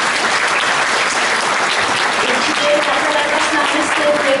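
Loud, dense audience applause at a Christmas concert in a Prague cultural house, sustained steady clapping filling the whole stretch with a faint voice beneath.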